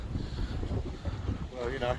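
Wind buffets a seaside pier at Whitby during cod fishing, a loud, rough rumbling roar that gusts across the microphone, with a voice briefly audible near the end.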